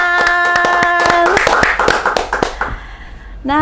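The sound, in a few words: hand clapping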